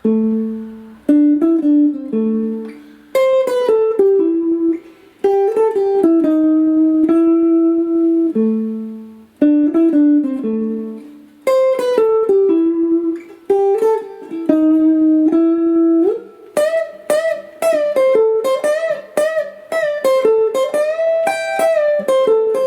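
A clean lead guitar plays a solo of quick melodic licks, bends and sustained notes, close and clear with short pauses between phrases.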